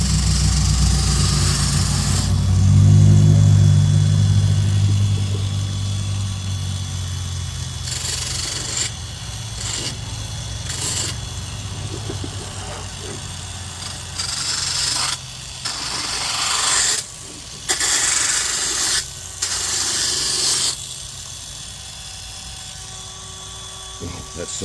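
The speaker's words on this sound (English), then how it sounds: "I may go over this with a finer grit." Resin being sanded with a finer grit gives a close, continuous rasping hiss, broken by short pauses and a few quick strokes, over a low steady hum.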